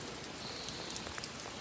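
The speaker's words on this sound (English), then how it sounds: "And there's more lake effect rain to my west" Lake effect rain falls steadily as a dense, continuous hiss, with scattered louder patters from large drops striking nearby surfaces.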